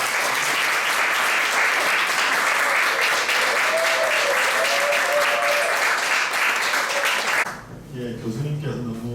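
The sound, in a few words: applause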